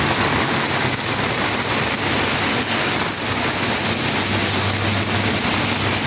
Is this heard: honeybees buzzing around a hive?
no